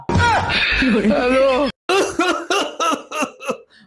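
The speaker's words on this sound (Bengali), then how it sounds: "তোমার কাশি এখনো ঠিক হয় নাই?" A person with a lingering cough: a strained, voiced throat sound, a brief pause, then a rhythmic run of about six sharp coughing bursts, loud and close.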